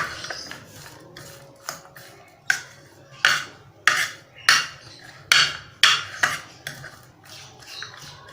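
Bread omelette mixture with salt and green chillies being stirred in a bowl, a series of sharp, irregular utensil clinks and taps against the dish, close and fairly loud, with short quiet gaps between strokes.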